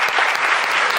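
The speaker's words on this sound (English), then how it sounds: "another round of applause" A dense round of applause from a seated conference audience, steady and continuous from start to finish, loud and close with no pauses.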